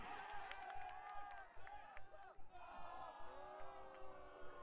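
Distant crowd at an AUDL ultimate frisbee game between the Raleigh Flyers and Dallas Roughnecks, booing and yelling in rising and falling waves, faint and reverberant, with some talk mixed in.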